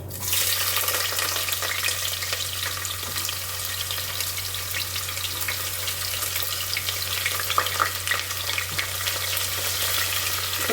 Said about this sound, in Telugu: జీరా అండి కొద్దిగా ఇట్లా నలిచి దీంట్లోకి వేస్తున్నాను. తర్వాత తరిగి పెట్టుకున్న ఒక పెద్ద ఉల్లిపాయ